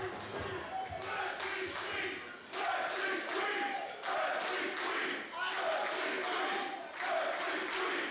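A professional wrestling crowd chants "freshly squeezed" for Orange Cassidy at Prestige Wrestling in Roseland, sounding as a steady, rhythmic mass chant that fills the arena at moderate distance and repeats in pulses throughout.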